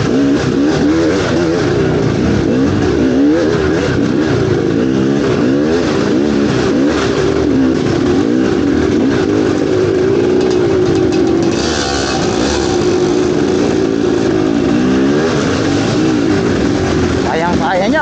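An MPX300 motorcycle labors over a muddy, bumpy road, its mid-pitched engine droning and revving continuously up close, with the note rising and falling as it rides through the ruts, under steady wind rush.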